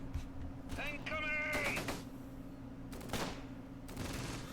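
Gunfire in the World War II video game Close Combat, with sharp broadband bursts of shots and volleys arriving in several irregular clusters under a voice.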